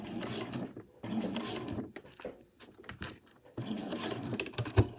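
A domestic sewing machine stitches a cushion cover, back stitching at a seam: bursts of rapid mechanical whirring separated by brief pauses, close and clear, with a sharp click near the end.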